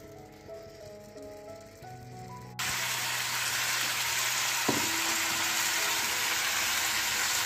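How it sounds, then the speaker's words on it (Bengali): Chicken fries in oil with spices, a loud, dense sizzle that starts abruptly partway through after a quieter stretch of background tones and then holds steady, with a brief clink of a utensil in the middle. "এবার আমি মশলার সঙ্গে এই চিকেনটা ভালো করে ভেজে নিয়ে আসছি"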